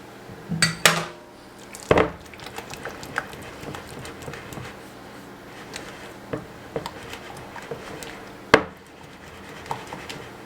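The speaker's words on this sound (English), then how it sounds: "Now you're just going to whisk this together until it's well combined." Honey mustard sauce whisked together in a bowl, a run of irregular clinks and light taps of the whisk against the bowl, with a few louder knocks scattered through.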